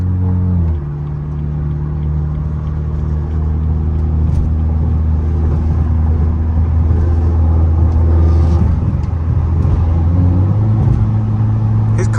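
Steady low engine drone from a stage 2+ BMW F30 328i being driven, heard from inside the cabin as a constant heavy rumble with a shift in pitch near the start and end; no distinct pops or bangs stand out.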